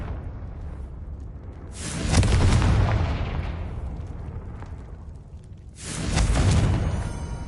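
Confringo fire spell blasts in the Hogwarts Legacy video game, two loud, broad explosive booms each swelling and rumbling for a couple of seconds, separated by a quieter lull of background game noise.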